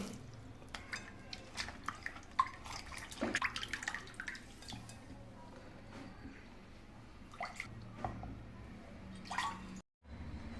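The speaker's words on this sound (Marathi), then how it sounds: "याच्यात आपण पाणी ओतू आणि यांना धुवून घेऊ" Water poured over bitter gourds as they are washed in a vessel by hand, with quiet splashing, dripping and light knocks, faint and close.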